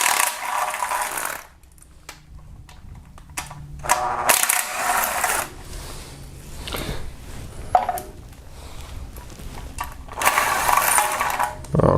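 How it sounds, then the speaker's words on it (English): A 10mm socket wrench ratchets bolts loose from the crankcase of a Kia Optima, giving repeated fast clicking runs broken by short pauses, close and fairly loud, with no talk. "start removing with 10mm socket a few bolts"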